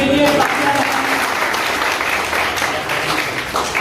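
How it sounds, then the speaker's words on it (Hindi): Loud, dense applause from an audience at a martyrdom-day commemoration event in India, steady clapping throughout with voices mixed in beneath it. "जोरदार तालियां"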